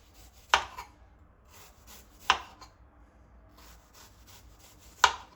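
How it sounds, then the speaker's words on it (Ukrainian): A knife slices apples thinly three times, each a sharp crisp slice onto a board, spaced a couple of seconds apart. "Яблука я нарізаю так тоненько такими слайсами."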